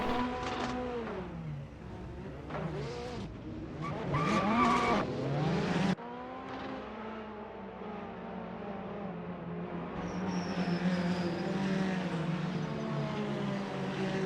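Ferrari race cars in the Assetto Corsa racing game, at Misano, rolling through a pace lap: engines drone and shift pitch up and down with a brief tire squeal, steady and fairly loud throughout.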